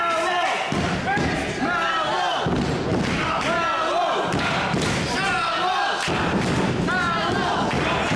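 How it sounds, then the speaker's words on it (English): A wrestler is slammed to the mat by a suplex at a live wrestling show, heard as heavy thuds under loud crowd noise and ongoing commentary. "Suplexes him"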